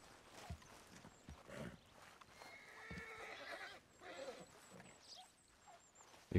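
A wild horse whinnies and snorts while being tamed in Red Dead Redemption 2, with hoof clops and shuffling and a thin game soundtrack underneath, moderately quiet and continuous.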